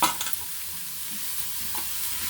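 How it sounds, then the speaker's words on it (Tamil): Chopped onions sautéing and being stirred in a pan for Indian potato sabzi, a steady close sizzle with soft scraping stir sounds, no talk. "இந்த வெங்காயம் நல்லா சிவப்பு கலராக வதக்கவும்"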